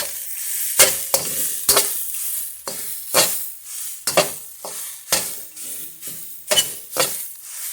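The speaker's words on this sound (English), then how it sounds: "we're going to stir fry this just until it's nicely broken up." Cold, clumped rice is stir fried for pork fried rice, with repeated sharp scrapes and tosses of a spatula in a hot wok over a steady sizzle, loud and close, with no talking.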